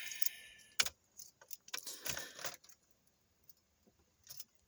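Soft, sparse clicks from a new EGR solenoid on a 4G Mitsubishi Eclipse being checked for a P0401 insufficient EGR flow code, heard as a few quiet, irregular ticks against near silence.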